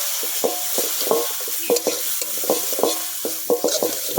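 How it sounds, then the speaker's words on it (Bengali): Chicken pocket fry sizzles in a hot pan after a little water is added, with a steady frying hiss and repeated scraping strokes of a spatula against the pan, close and continuous. "অল্প অল্প পরিমাণে জল দিয়ে দিলাম।"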